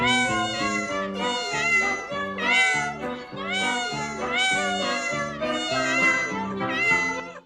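Several cats meow in a steady, rhythmic series, their cries rising and falling like a sung melody, loud and close.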